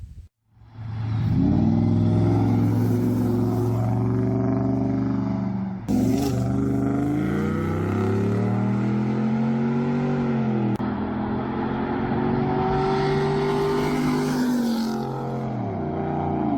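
A Ford Crown Victoria's 4-valve V8 engine revs loudly and continuously, rising and falling in pitch through several throttle sweeps with a deep rumbling tone and no talk.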